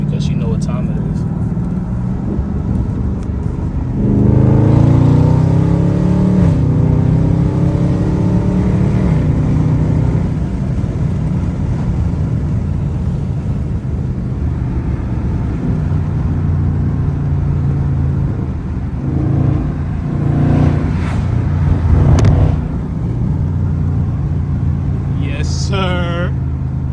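A 2022 Dodge Charger Scatpack Widebody with a mid muffler delete rumbles throughout, with rising engine swells around the downshifts. People talk over the exhaust.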